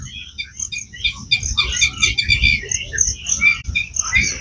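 Birds call at Nawabganj bird sanctuary near calm water in the monsoon season, a busy overlapping chorus of high chirps and twitters, fairly close and loud, over low rustling background noise.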